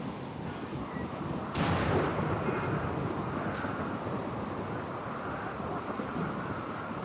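Steady heavy rain with a rolling thunder rumble swelling near the start, a thunderstorm in the video game RimWorld, continuous and loud throughout with no voices.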